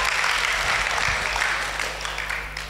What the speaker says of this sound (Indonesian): Kalau oke tepuk tangan dong.